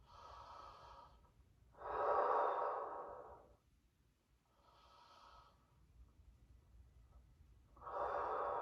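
Slow, deep breaths during an evening stretching routine, with long airy inhales and exhales alternating in a steady rhythm, close and fairly quiet with no talking.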